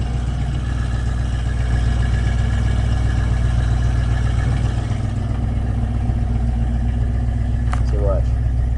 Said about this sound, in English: It's definitely idling fast